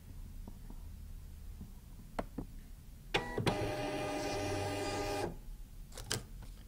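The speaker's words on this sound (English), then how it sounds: "Okay, so it printed out of the printer, but it's kind of light." A Zebra wristband printer runs a test print: a couple of soft clicks, then about two seconds of steady whirring, buzzing feed with a clattering edge, ending in a few sharp clicks, close and alone.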